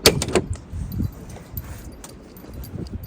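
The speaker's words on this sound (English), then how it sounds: "So I'm going to open up the door here." A household door opens with a clatter of handle and latch near the start, followed by a softer knock around one second, then a quiet room.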